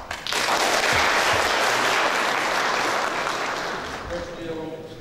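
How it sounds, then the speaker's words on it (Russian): An audience breaks into loud, dense applause that starts abruptly, holds steady, and then slowly thins toward the end, with a voice faintly mixed in. "Поэтому я даже хотел бы аплодировать."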